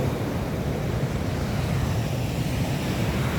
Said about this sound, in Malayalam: കടലിൽ തിര നന്നായി അടിക്കുന്നുണ്ട്.